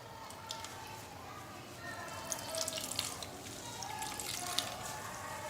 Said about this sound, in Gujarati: છીણમાંથી આપણે બધું જ પાણી નીચોવી લેવાનું છે અને છીણને એકદમ કોરું કરી લેવાનું છે।